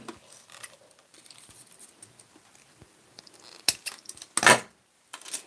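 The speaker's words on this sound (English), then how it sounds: "Don't worry, those are really crummy scissors." Metal scissors are handled and set down on a work surface, giving sparse light clicks and clinks with a couple of sharper metallic clatters near the end, close and fairly quiet.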